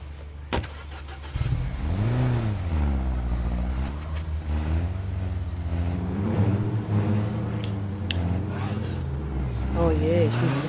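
Car engine in State of Decay 2 rising and falling in pitch while driving, loud and steady, with speech and other game sounds over it.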